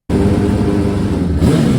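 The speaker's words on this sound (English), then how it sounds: "you obviously want to turn the engine on and rev the hell out of it." An F1000 race car engine fires up and revs hard, a loud, close, continuous buzzing roar that lifts sharply near the end of the short burst.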